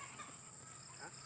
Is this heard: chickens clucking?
yes